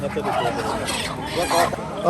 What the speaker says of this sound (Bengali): প্রচুর হাঁস মুরগি